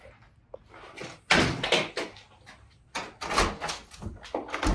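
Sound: door being tried and rattled to check if locked

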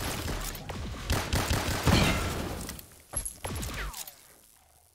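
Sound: Death Machine gun firing in Black Ops 3 Zombies video game

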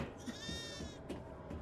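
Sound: baby pig sound in the video game Devour

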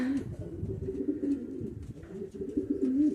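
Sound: pigeons cooing in a loft

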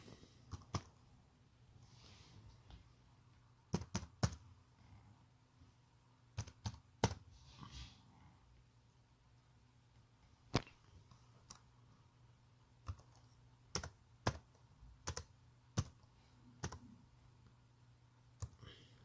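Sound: typing on a laptop keyboard

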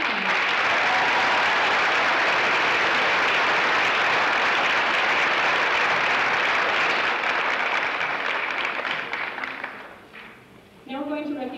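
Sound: audience applause for choir soloists

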